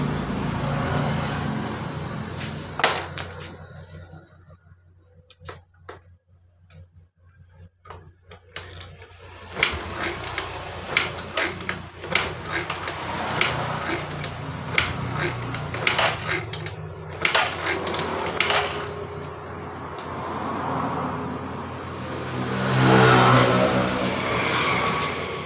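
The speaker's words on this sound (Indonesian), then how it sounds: "Coba kita engkol apakah motor ini bisa hidup atau tidak." A Yamaha Mio Sporty motorcycle that will not start is kicked over again and again, giving close bursts of mechanical clanking and churning strokes with quiet gaps between them and no engine catching.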